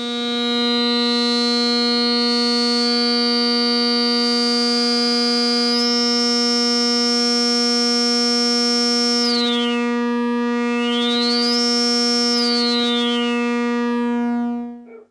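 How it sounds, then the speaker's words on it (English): An AE Modular SVFILTER synth filter module set to high resonance produces a loud, sustained buzzy tone with a bright ringing peak that sweeps up, drops and rises again before the sound cuts off. "if I turn the resonance up too high, we can get some really ringing resonant tones."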